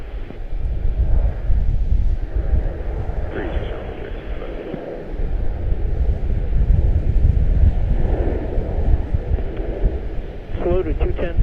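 A Boeing 737-800 jet on its takeoff roll at Charlotte-Douglas International, heard as a steady, roaring engine rumble mixed with wind buffeting, with voices talking over it throughout.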